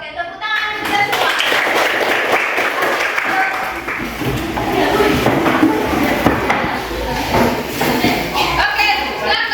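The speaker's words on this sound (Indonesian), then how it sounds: "Oke, tepuk tangan kita semua." Classroom applause from a group of students: loud, dense clapping that runs throughout, mixed with voices and thuds.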